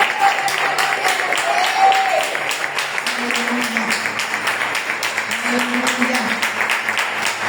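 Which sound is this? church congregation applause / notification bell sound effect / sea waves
church congregation applause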